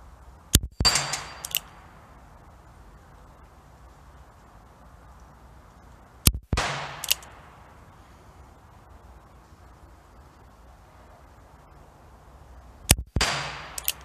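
Three loud gunshots from an Uberti .357 Magnum single action revolver, fired at an outdoor range, each a sharp crack with a short ringing decay, spaced roughly six seconds apart with quiet between.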